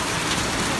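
Hail pours down steadily in Tangse, Pidie, during a storm with strong winds, a dense continuous hiss of pellets striking surfaces, loud and close with no voices.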